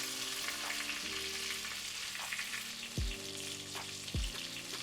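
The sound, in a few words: chiles gueros and green onion sauteing in bacon oil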